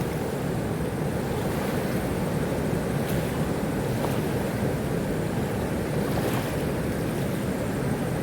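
Swollen river after heavy rain, rushing and flowing in a steady dense roar that stays loud and unbroken throughout, with no voices.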